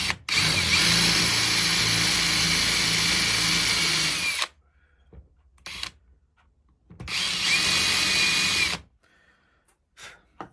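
A power drill whirs steadily for about four seconds while drilling a 6mm hole in wood, stops, then runs again for a second burst, with brief handling clatter in between.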